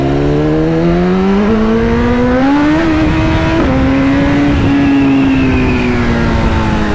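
BMW motorcycle ridden hard with a quickshifter, its engine revving and climbing through the gears with a quick shift break partway through, loud and close with a continuous roar.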